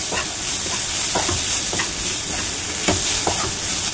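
Chopped ginger, green chilli and coriander are stirred in a hot pan for paneer cutlets, a steady sizzle broken by repeated scraping strokes of the spoon, close and loud.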